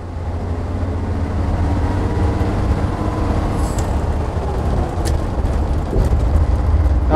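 Leyland National bus engine drones steadily and loudly from close by, a continuous low rumble with a brief hiss near the end as the gear change goes through; no talking.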